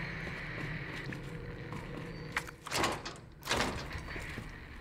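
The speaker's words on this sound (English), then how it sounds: "Can't open that door." A locked door in Resident Evil 2 rattles in a couple of short, loud metallic jolts against a quiet indoor backdrop, with no talking.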